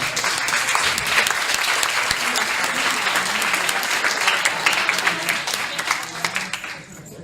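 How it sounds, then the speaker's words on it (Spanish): Sustained, dense applause fills an anniversary ceremony hall as an audience claps for the director, steady and loud throughout before easing slightly near the end, with faint crowd murmur beneath. "También pido un fuerte aplauso para nuestro director."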